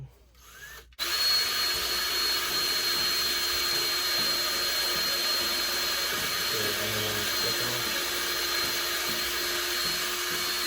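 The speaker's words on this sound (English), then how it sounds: "So now I'm using a drill bit." A power drill whirs steadily after a brief quiet start, running continuously at a constant pitch close by, drilling into wood.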